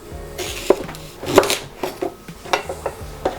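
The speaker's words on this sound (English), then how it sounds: "So I'm just gonna cut the ends first." A kitchen knife trims the ends off rhubarb stalks on a cutting board, giving a few sharp close chops and taps in an uneven rhythm.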